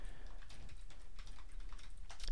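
Code being typed on a computer keyboard gives a quick run of close, soft key clicks in an irregular rhythm, with no talking.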